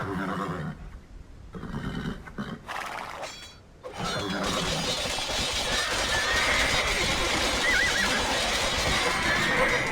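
English cavalry charging in an Age of Empires 2 recreation of the Battle of Bannockburn. Horses whinny and hooves clatter, and after a short pause a dense, steady roar of the charge builds and holds. No one speaks.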